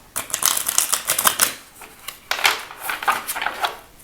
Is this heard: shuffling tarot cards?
yes